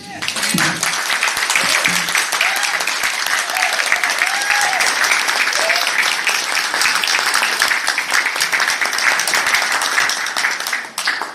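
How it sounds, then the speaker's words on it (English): A crowd at a campaign gathering breaks into sustained applause, loud dense clapping that runs for about ten seconds before fading, with a few voices mixed in briefly at the start. "I think we deserve a round of applause"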